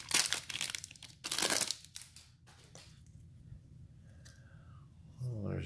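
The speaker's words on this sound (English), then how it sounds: "We'll rip them open and see what we can get." Foil packs of 2004 Fleer Tradition basketball cards torn open by hand, loud crinkling and ripping bursts at the start, then quieter handling rustle of cards and wrapper close to the mic.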